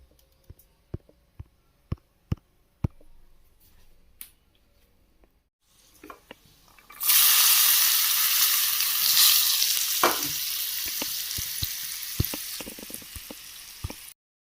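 Spices for a tempering hit hot sesame oil for a mango-ginger pickle. A few sharp clicks and taps come first, then a loud, sudden sizzle bursts up and crackles steadily nearby.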